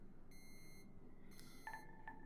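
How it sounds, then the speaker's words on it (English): Electronic beeps from a golf video game, a sustained tone followed by several short high bleeps near the end, faint and without talk. "that beeping is a bit on the annoying side though"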